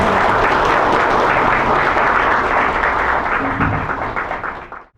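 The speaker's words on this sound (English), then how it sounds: "Give a big round of applause" A big round of applause from guests at a CSR event in Mizoram, steady loud clapping filling the hall before tapering off and cutting out at the end.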